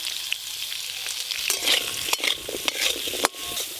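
Green tomatoes cut and washed, with salt and turmeric, frying in a pan: an even sizzle broken by several sharp spatula scrapes and knocks against the pan, near and moderately loud, no speech.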